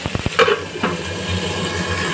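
Vegetables fry in hot oil for shukto, a Bengali vegetarian dish; a few quick clinks of stirring open the moment, then a close, steady sizzle hisses on alone.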